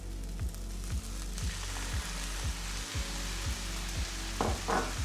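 Onions, garlic and sweet corn frying in a pan, a continuous soft sizzle with a rhythmic scraping of a utensil stirring about once per second, and a couple of brief clatters near the end.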